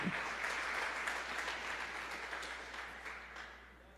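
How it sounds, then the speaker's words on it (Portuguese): A church congregation claps for Jesus during a sermon, a dense round of applause from many hands that holds steady and then gradually fades, over a faint low hum. "Bate palmas para Jesus."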